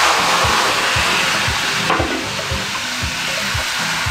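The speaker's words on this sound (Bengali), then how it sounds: "এবার হাই ফ্লেম দিয়ে এটাকে ভাজতে হবে।" Pointed gourd paste, added to hot oil tempered with black cumin seeds over high flame, fries in a pan with a steady loud sizzle and periodic soft scraping strokes of a stirring spatula.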